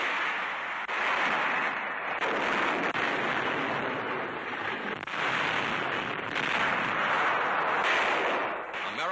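Wartime artillery barrage on the Allied drive in Italy in 1944, heard as a dense, continuous roar of rumbling fire with a few sharper bursts, loud and sustained throughout with no talk.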